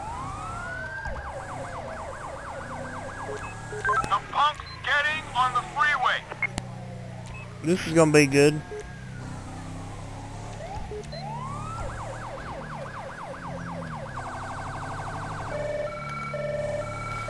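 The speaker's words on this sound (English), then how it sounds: "a federal signal Delta siren." A Federal Signal Delta police siren in GTA V wails and then switches to rapid yelping and piercing high-low bursts, loud and close, while someone briefly speaks over it.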